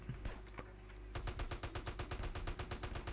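Rapid automatic gunfire in GTA San Andreas online on mobile, a steady stream of close, loud shots starting after a second of scattered single shots and game noise.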